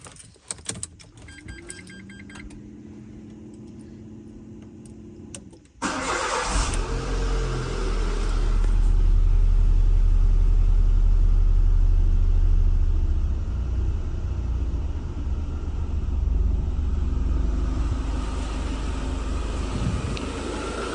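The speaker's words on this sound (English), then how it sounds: "start and run the engine for a few minutes" A Renault Modus 1.2 Turbo engine cranks and catches, then settles into a steady, loud rumbling idle that continues alone, after some faint clicks and rustling beforehand.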